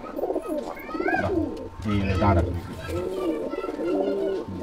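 Pigeons coo in a pigeon loft, soft repeated throaty calls overlapping close by, while someone talks over them.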